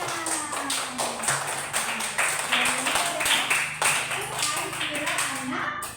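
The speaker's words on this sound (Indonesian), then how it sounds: "Ya, tepuk tangan." Children in a classroom clap their hands in a lively, rhythmic pattern of sharp, repeated claps. A teacher's voice carries over the clapping.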